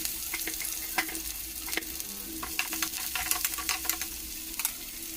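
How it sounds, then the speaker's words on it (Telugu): Mustard seeds, fenugreek and curry leaves sizzling in hot oil in a kadai, with steady frying crackle, sharp pops and stirring scrapes throughout, fairly close and with no talk. "బాండీ పెట్టుకుని ఆయిల్ పోసుకొని అందులో ఆవాలు ఇంకా మెంతులు కరివేపాకు వేసి బాగా వేయించుకుందాం"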